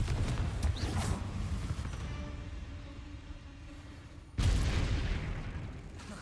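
Spell blasts from Confringo, the fire-blasting curse cast during a duel in the Hogwarts Legacy video game, come as booming explosive bursts, with one loud rumbling impact at the start and another sudden blast near the end over steady background noise.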